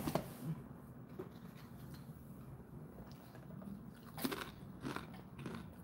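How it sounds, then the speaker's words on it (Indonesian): Crunchy kerupuk crackers eaten close to the mic, with sharp bites followed by quiet crackling chews, soft and intermittent over a faint outdoor hush. "Mangan kerupuk kriuk-kriuk."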